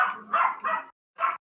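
A dog barks close by in four sharp yaps, three quick ones in a row, then a short pause and one more, loud with nothing else beneath.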